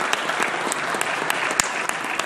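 Audience applause at a solemn session of Brazil's National Congress marking 170 years of Brazilian Congregationalism; loud, close clapping with a few sharp individual claps standing out, continuous and unaccompanied by speech.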